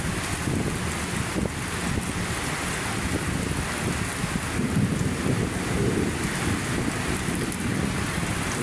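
Heavy rain pours steadily at Manila Bay, a dense, loud, unbroken roar with wind mixed in that stays even from start to finish and has no voices over it.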